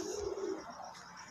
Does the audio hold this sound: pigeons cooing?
yes